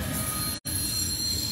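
Old MKT railroad cars roll past in a passing train, a steady, loud rumble of wheels and cars close by, broken by a very brief gap in the middle.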